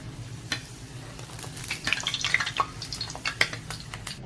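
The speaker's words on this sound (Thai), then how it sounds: "เราจะนำแป้งที่เราทำไว้นะคะ ลงทอดนะคะ ใช้น้ำมันที่เราทอดพุดดิ้งเมื่อกี้เลยนะคะ" Pani puri dough rounds frying in reused hot oil, giving a steady crackling sizzle with scattered sharp pops and bubbling, close and moderately loud, with faint stirring and pressing of the puffing dough.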